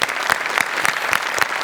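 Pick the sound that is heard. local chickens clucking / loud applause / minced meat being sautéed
loud applause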